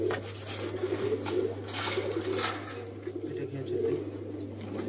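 Saharanpuri baby pigeons coo in low, repeated murmuring phrases close by, over a steady electrical hum.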